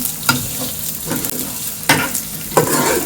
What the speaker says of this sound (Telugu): ఇలా అల్లం వెల్లుల్లి పేస్టు వేగే వరకు ఇలా తిప్పుకోవాలన్నమాట